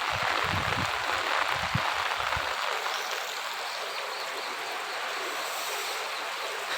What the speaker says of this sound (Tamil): இன்றைக்கி தாங்க மழை பெய்யுது